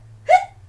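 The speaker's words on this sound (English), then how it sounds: "He was so happy he got the hiccups." A single sharp, close hiccup, brief and loud, stands alone against a quiet background.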